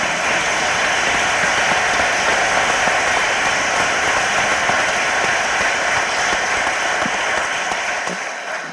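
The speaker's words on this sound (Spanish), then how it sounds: "le podemos aplaudir a Jesús" An audience at a book presentation applauds steadily and loudly, a dense wash of clapping that holds throughout and eases slightly at the end, with no talking.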